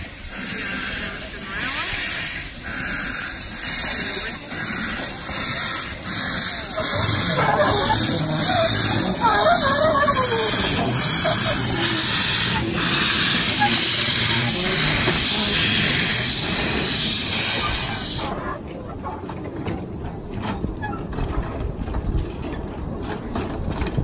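A steam train beside a canal on the Four Counties Ring lets out a loud, continuous hiss of steam for about eighteen seconds with mechanical chuffing beneath, before the hiss cuts off and a lower rumble carries on.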